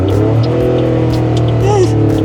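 A learner driver's car pulls away on a hill during a driving lesson, its engine revving steadily and loudly with a rising pitch, heard from inside the car, with a voice speaking briefly over it.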